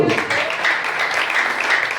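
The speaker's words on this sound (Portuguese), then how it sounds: "Então vamos aplaudir o Senhor Jesus." A church congregation claps for Jesus, a dense, steady round of applause that keeps an even loudness from start to finish, with no one speaking over it.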